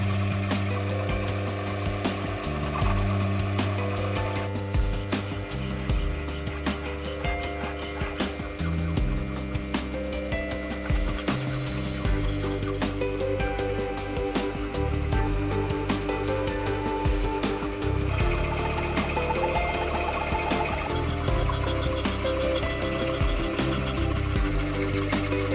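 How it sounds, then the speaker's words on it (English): Small bench filing machine cleaning up scroll saw cuts in clock parts in a home machine shop: a steady mechanical reciprocating hum with rasping filing, continuous and moderately loud, shifting in tone as the work changes. "I used this little bench filing machine to clean up the cuts from the scroll saw and also to clear out the"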